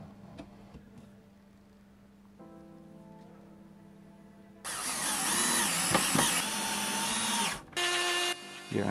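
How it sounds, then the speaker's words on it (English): A new router cutting a T-molding slot in a wooden four-player arcade control panel, whining up loudly and steadily after a quieter tonal hum, with a brief dip before it resumes. "Here I'm routing the T-molding slot with a new router."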